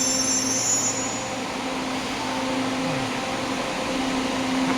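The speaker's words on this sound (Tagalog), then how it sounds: "That LRT is going to Recto. Going to Recto. It's from Antipolo." An LRT train running from Antipolo toward Recto rumbles past close by, a continuous loud roar with metallic wheel squeals and a faint humming tone.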